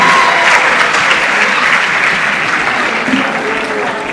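Dense, steady applause from an audience at a national research festival in Kenya, filling the whole stretch at a constant loud level with a faint crowd murmur beneath.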